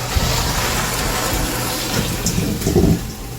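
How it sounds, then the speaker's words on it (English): Water poured out of a pot into a strainer in a kitchen sink for draining pasta, a loud, close, continuous gushing splash that lasts a few seconds. "Now we're going to strain it in the sink over here."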